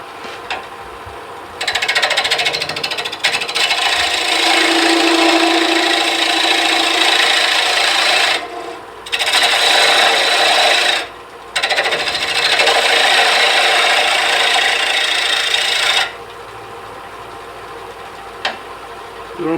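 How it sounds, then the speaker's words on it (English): Wood turning a tenon on an ornament base at the lathe, a loud steady broadband cutting hiss of the tool on spinning wood, broken by two short pauses and easing to a quieter hum of the running lathe near the end. "And now we're going to make a tenon."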